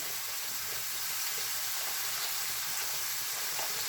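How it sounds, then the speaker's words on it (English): Spaghetti noodles with a little vegetable oil boiling in a pot, a steady broadband bubbling hiss with faint scattered pops, continuous and moderately quiet throughout, with no talking. "spaghetti noodles boiling"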